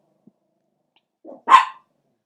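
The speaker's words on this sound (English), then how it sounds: "dogs join in, dogs are singing to you" A couple of dogs bark nearby, one short yip followed by a louder, drawn-out bark that rises toward a howl, standing alone against silence.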